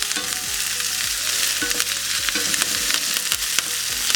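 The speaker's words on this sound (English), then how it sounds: "When the mustard seeds are popping, add the onion and also the curry leaves." Onion and curry leaves frying in hot oil with mustard seeds for a Sri Lankan lunch, a close bright sizzle with rhythmic scraping stirs and small pops.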